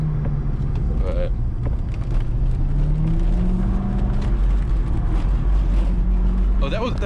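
A 2004 Corvette C5 with a six-speed manual drifts down a wet mountain road, its engine droning steadily and loud throughout with pitch sweeps as revs rise and fall, tires hissing on the wet surface, and a voice speaking over it.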